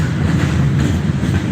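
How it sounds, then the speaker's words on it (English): A moving train gives a steady, loud low rumble with rolling rail noise that fills the whole stretch without break. "you may hear a train in the background"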